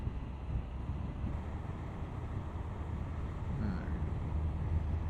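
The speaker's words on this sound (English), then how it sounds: "It's a little breezy down below." Wind rushing steadily past a rider on a moving motorcycle, a low, fairly quiet buffeting roar that continues throughout with no talk.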